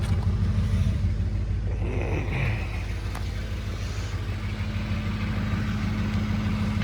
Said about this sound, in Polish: spójrzmy pod jak tam sobie silnik pracuje